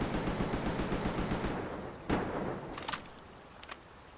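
AK rifle gunfire in the video game Palworld starts as a rapid, loud automatic burst, then tails off into a few separate sharp shots with a ringing decay and no voices.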